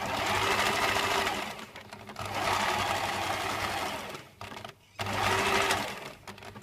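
A sewing machine stitches a fabric heart appliqué onto a shirt in loud bursts of rapid whirring, pausing briefly between runs while the fabric is turned.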